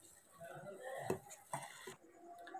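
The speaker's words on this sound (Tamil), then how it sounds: "இது நல்லா மசிச்சு மிக்ஸ் பண்ணுங்க" Banana flower vada batter being mashed and mixed by hand in a bowl, quiet squishy pressing with a few soft knocks against the vessel, close and faint, with no speech.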